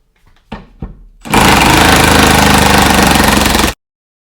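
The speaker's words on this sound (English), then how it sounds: "The impact wrench is usually used for really big bolts" An impact wrench fires two short bursts and then runs in one loud, continuous rattling hammer for about two seconds before stopping abruptly, very close and with no talk.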